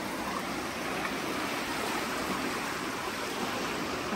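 Steady rushing water flows continuously, a broad, even wash of sound like a stream running beneath a bridge, with no voices.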